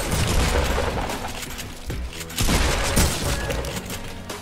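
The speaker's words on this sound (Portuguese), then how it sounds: "Errei todos os tiros." Rapid bursts of gunfire from a first-person shooter video game, loud and close, with a dense volley, a short lull, then another heavy barrage.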